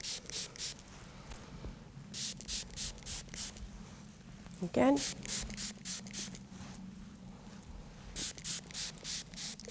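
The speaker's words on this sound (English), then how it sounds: "So we'll take the spray bottle, okay, and I'm just going to start by spraying like so." A handheld spray bottle mists water onto hair again and again, giving short, soft hissing bursts in a steady rhythm. Someone speaks briefly in the middle, and there is light rubbing and handling noise.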